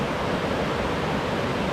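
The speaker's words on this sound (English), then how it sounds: "I had to stop and get some video of these" Three roadside waterfalls along a Washington trail, one large and two smaller seasonal falls, give a steady, unbroken rushing roar close by, with no pauses or changes in level.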